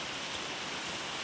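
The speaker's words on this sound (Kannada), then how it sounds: "ಹೊರಗಡೆ ಮಳೆ ಬರ್ತಾ ಇತ್ತು." Steady rain pours outside a house during an afternoon thunderstorm, a dense, even hiss with no gaps and no voices, cutting off abruptly at the end.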